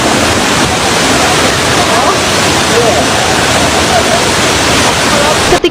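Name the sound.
waterfall near rice fields in Bali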